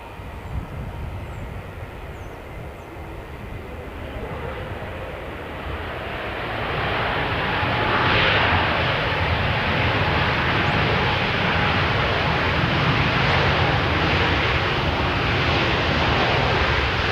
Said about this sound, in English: here's the Air New Zealand. The Air New Zealand is the 321 Neo, not the XLR version,